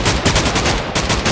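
Rapid bursts of gunfire from a gun fight in Minecraft, loud and close, with shots stacking in a dense, continuous rattle for the whole stretch.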